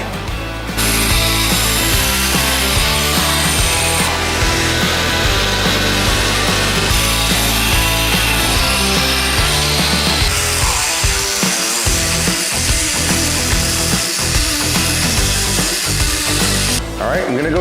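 Bevels ground on the edge of a knife made from an old horse rasp, a loud continuous abrasive grinding drone running steadily throughout with slight shifts in pitch as the blade is worked.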